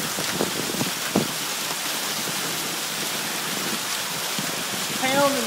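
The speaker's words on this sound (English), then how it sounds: "Look at this hail coming down." Hail pounding down on a car roof and the ground during a storm in Whitehall, New York, a dense, steady rattling wash with a few sharper louder impacts standing out; a voice briefly comes in near the end.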